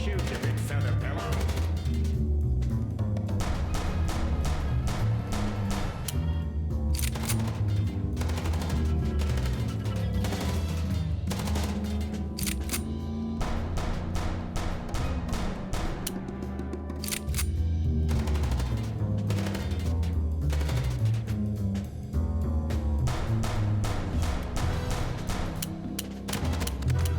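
Rapid bursts of gunfire from a moving car in the game Chicken Police, dense and continuous over a loud engine-and-music bed, with shots cracking in irregular clusters throughout.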